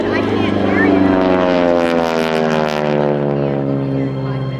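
A T-6 Texan propeller trainer airplane flies at an air show, its engine droning loudly and continuously, the harmonic hum holding level throughout with a slight rise in the middle.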